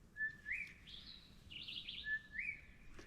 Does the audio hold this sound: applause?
no